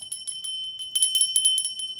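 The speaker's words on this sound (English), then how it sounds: "Ring that bell." A small hand bell rung in quick bursts, giving bright, close jingling strikes that cluster in a rapid run and are heard alone.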